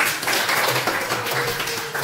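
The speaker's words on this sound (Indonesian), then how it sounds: "Tepuk tangan untuk kalian." A classroom of students claps together in a steady, dense round of applause lasting a couple of seconds, close and fairly loud, with no talking.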